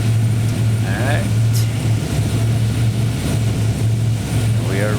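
C-130 propeller engines drone loud and steady with a deep, constant hum while the aircraft waits on the ground before takeoff, filling the whole clip without a break.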